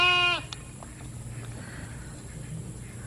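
A Nubian alpine cross goat from a homestead dairy herd lets out one loud, close, wavering bleat at the start, followed by quiet farmyard rustling and faint shuffling steps.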